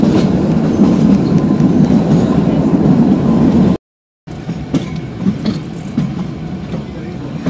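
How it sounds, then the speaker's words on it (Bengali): The Kalka–Shimla toy train rolls along with a loud, steady clickety-clack and rumble of its carriages, heard close from on board, with a brief dropout midway and faint voices in the background. "টয় ট্রেনে করে কালকা থেকে সিমলা যাচ্ছি"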